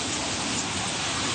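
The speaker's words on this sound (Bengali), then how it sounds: "এই যে দেখো, বৃষ্টি নামতেছে, এবার আগুন নিভবে দেখো" Rain pouring down on a burning fire, a dense, steady hiss of falling water that stays even and continuous throughout, without any voices.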